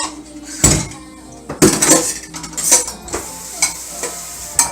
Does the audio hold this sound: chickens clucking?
no